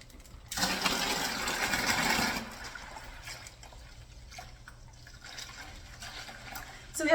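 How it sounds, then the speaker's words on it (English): Grape juice pours into a bucket over bentonite for wine-making in a thick, splashy stream for about two seconds, then stops, leaving quiet drips and small handling sounds. "pour the juice into this bucket on top of the bentonite"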